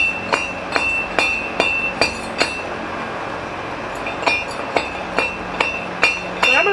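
A hand-cranked manual grinder crushing gold ore, giving sharp metallic clanks in a steady rhythm of about two per second, close and fairly loud, pausing briefly midway before resuming.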